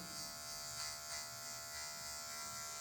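An electric hair clipper buzzes steadily and close at a low level while its tip trims fine detail on a low fade haircut, with no talk over it.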